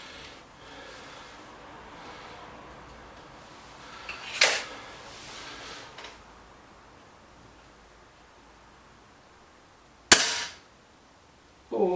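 Air rifle shots at a target from a BSA Lightning SE or Webley Xocet: two brief, sharp cracks several seconds apart, the second louder and crisper, against quiet outdoor background noise.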